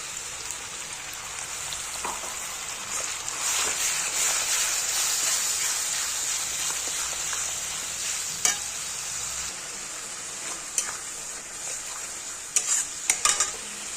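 Spice paste and softened onions sizzle steadily in hot oil for chicken kosha, with a constant close frying hiss broken by occasional scrapes and clinks of stirring toward the end; no one speaks.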